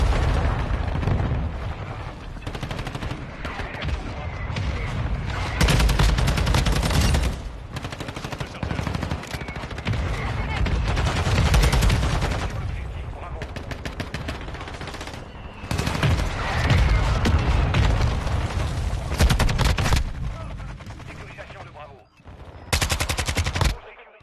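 Video game gunfire in rapid automatic bursts separated by short gaps, loud and close with heavy booming low end, mixed with game sound and occasional talk.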